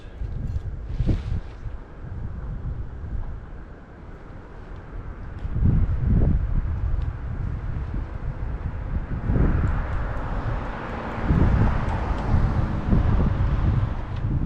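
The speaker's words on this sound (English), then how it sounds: "It's a little windy today." Outdoor wind rumbles and gusts against the microphone in repeated low surges, with a faint hiss of air in the background.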